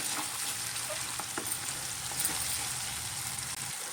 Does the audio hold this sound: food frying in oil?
yes